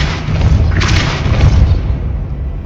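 Depulso spell blast in the video game Hogwarts Legacy, a dense, booming magical thump with a sharp burst near the middle, loud and rumbling, with no talk over it.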